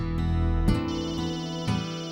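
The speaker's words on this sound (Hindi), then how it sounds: "स्वरा, ये दादा से मोहिते के यहाँ से फोन है" A telephone ringtone chimes in a household scene, its repeating electronic tone sounding steadily and clearly for a couple of seconds with no one talking over it.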